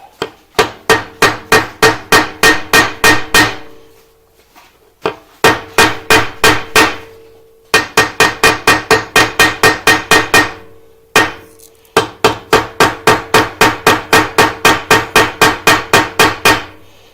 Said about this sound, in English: So I'm going to peen those a little bit.